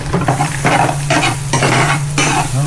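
Onions sautéing in a hot pan as they are stirred, a steady loud sizzle broken by several scraping stirs of the utensil against the pan, close up and with no voices.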